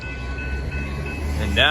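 A Metra commuter train pulls away from a station toward downtown, a steady low rumble of rolling cars with a rising squeal near the end, close by.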